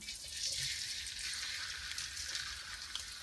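Onions frying in coconut oil for biryani topping give a steady, bright hiss with a faint bubbling undertone, continuing without pause, fairly close and even in level.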